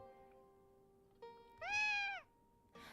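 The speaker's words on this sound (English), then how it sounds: "It's our kitten!" A kitten in the Piofiore visual novel game gives one clear, drawn-out meow near the middle, close and alone over a quiet bed of soft game music tones.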